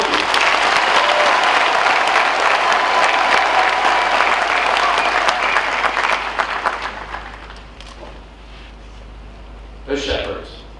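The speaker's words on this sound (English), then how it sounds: "Let us express our thanks to him by a round of applause" A congregation at a Catholic archbishop's installation in Nairobi gives a long round of applause, loud and dense at first, then fading out, with a voice speaking briefly near the end.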